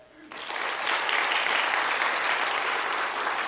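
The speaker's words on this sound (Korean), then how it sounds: "우리가 인사할 때 뜨거운 마음으로 박수로 축하해 주길 바랍니다." A church congregation at a 25th-anniversary ordination service applauds newly ordained officers; the clapping swells in after a brief quiet start into a sustained, dense, even roar of many hands.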